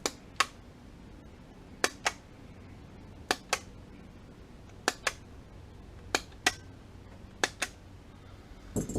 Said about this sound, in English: I take a hole punch and I make these little round discs.